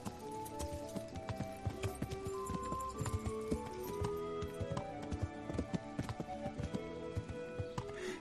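Steady hoof clip-clop from a horse in the video game Kingdom Come, many quick overlapping hits over a continuous ambient bed, fairly loud and close throughout.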